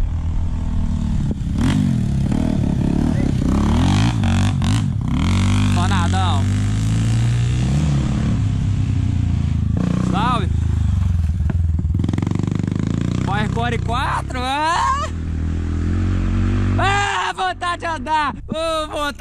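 Several trail motorcycles rev and roar past near a waterfall, engines whining up and down, with people talking and shouting over the noise.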